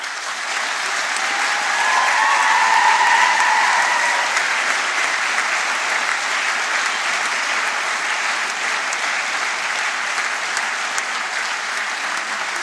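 A large audience at a university graduation ceremony claps continuously and loudly, a dense even roar of applause that swells slightly early on and then holds steady throughout.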